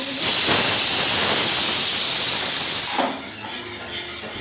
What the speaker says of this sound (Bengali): আলুটা দেখো কুকারে স্টিম দিয়ে দিয়েছি